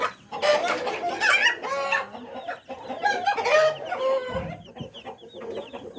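Rooster crowing and hens clucking on a poultry farm with broiler chickens, several overlapping birds calling loudly and close throughout, with a short low thump near the end.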